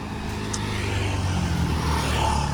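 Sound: old car driving past

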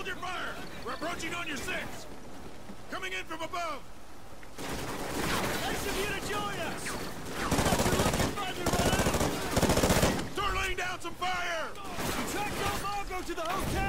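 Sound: gunfire in Call of Duty: Ghosts video game

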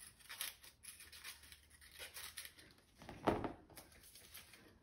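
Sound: cutting a paper cupcake liner in half

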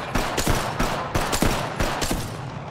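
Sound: gunfire in the video game Apex Legends

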